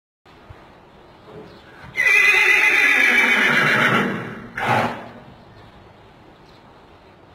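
A horse lets out a loud, drawn-out whinny lasting about two seconds, followed by a short snort, against a quiet background.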